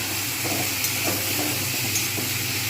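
Vegetables and spices fry in a pan for a fish curry, giving a constant hissing sizzle with soft stirring movements underneath, steady and close throughout.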